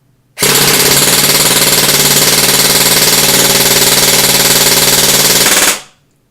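A gun fires full auto through a 90-round magazine, one loud, unbroken, rapid rattling burst of shots lasting about five seconds before it stops.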